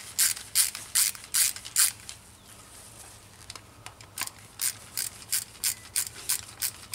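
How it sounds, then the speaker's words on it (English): Hand ratchet backing out three screws on a 2005 Ford F250, rapid bursts of crisp, close clicking in repeated strokes with a brief quieter pause midway. "Remove the three screws."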